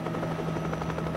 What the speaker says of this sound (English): Chopper 4 over the wreckage as Miami Beach Coast Guard look for any survivors